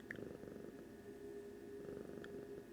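Soft, close purring of a cat, a quiet rhythmic rumble rising and falling with each breath, heard alone in a calm room.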